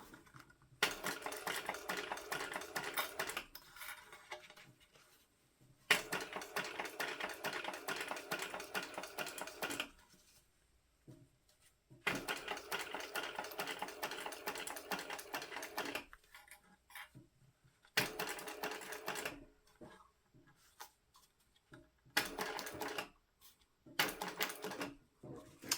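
A sewing machine stitches the gusset of a handbag in several bursts of steady running, each a few seconds long, broken by short quiet pauses, with no talk.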